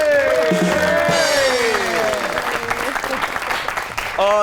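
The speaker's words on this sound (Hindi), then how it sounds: "आपकी बहुत सी तालियों में the one and only Hina Niazi." Studio audience applauding a guest's entrance on a Pakistani TV comedy talk show, a full burst of clapping mixed with a swooping musical jingle, with a voice cutting in near the end.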